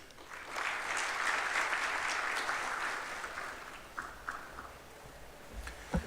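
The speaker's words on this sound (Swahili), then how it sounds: "Tumpongeze tena kwa makofi." A gathering at State House applauds the Junior Starlets and Harambee Starlets women's football teams, with a swell of moderately distant clapping that thins into scattered claps and a few thumps.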